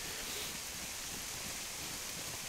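Steady rain falling in the survival game DayZ, a soft, even hiss of drops with no breaks and no voices.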